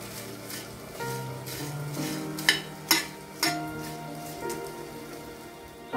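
Dry bay leaves toasting in a pan give a light crackle and scrape as they are stirred, with sharper clicks of the spoon against the metal over a faint steady hum nearby.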